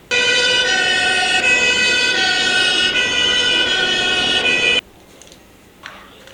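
A toy fire rescue bus blares a loud, steady electronic siren with a bright multi-tone wail for nearly five seconds, then cuts off abruptly, leaving faint background noise.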